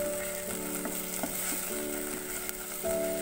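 Fenugreek leaves fry in a pan over a medium flame, a continuous close sizzle with small crackles and the occasional clink of stirring, steady throughout with no voices.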